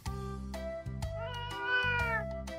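A cat meows in a series of clear, drawn-out tonal calls, close and loud, with several cries running together over a couple of seconds.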